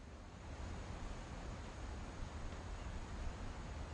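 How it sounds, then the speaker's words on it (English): Deep surging ocean waves roll in a video game as a storm sinks a house off the Washington coast, a steady broadband wash with no voices, moderately loud throughout. "But 40-foot waves off the coast of Washington send the house and Odin to the bottom of the sea"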